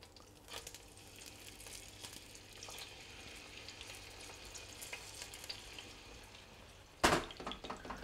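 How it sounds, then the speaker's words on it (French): Veal cheek browning in oil at the bottom of a casserole makes a soft, steady sizzle, faint and continuous, until a sudden louder scrape or clatter near the end. "on va faire dorer notre viande des deux côtés"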